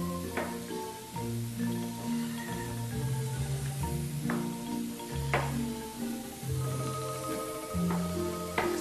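Small raw potato pieces fry in a hot pan, a continuous loud sizzle with occasional sharper crackles and stirring scrapes, close and steady throughout with no talking.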